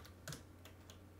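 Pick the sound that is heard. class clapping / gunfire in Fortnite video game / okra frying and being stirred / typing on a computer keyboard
typing on a computer keyboard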